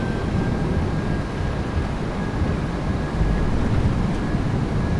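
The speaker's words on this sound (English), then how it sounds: "Reversers are out." Thrust reversers of a PMDG 737-800BCF after landing in Microsoft Flight Simulator 2024, a loud, steady broadband engine roar that holds constant and swells slightly near the end.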